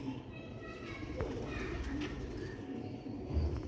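Pigeons coo softly nearby, a low murmuring call under faint background noise, from a loft of young birds about one and a half to two years old, Sialkoti black-faced pigeons.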